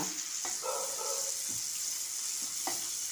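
Finely chopped ginger tossed into hot tempering oil gives a continuous bright hiss, with a few soft knocks and a faint murmur in the background.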